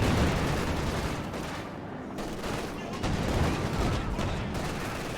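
Dense, continuous battle noise from Company of Heroes 2 during a tank fight between a Panzer, a T-34 and an Su-85: overlapping gunfire and blasts, loud and close, with no pauses across the stretch.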